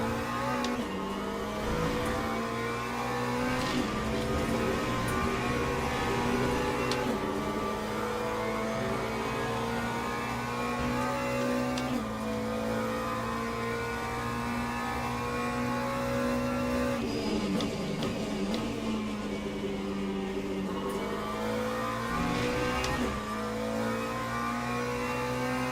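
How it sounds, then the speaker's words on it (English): Hypercars in Le Mans Ultimate race close together, their engines a sustained loud drone that rises and falls as the cars approach and pass, with shifting pitch and no voices. "See more hypercars side by side as they approach us."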